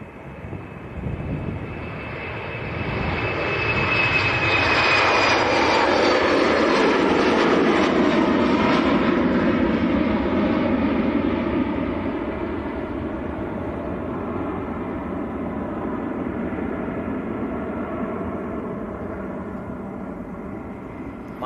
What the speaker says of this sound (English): Right, here we go, Eastern Embraer to Amsterdam,